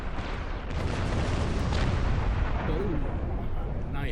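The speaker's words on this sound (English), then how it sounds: "Oh, nice explosion." A spaceship blows up in the video game Star Trek Online with a loud, rolling explosion. The roar builds and lingers for several seconds amid weapons fire.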